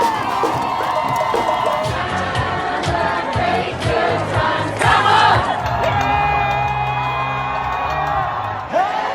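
A New York street crowd celebrates an election result, cheering, whooping and shouting in a dense, sustained roar, with car horns and voices blending in throughout.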